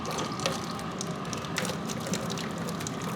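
Hot water running from a diesel air heater converted with an intercooler into a water heater, pouring steadily and close by with a faint splashing trickle, no talk over it.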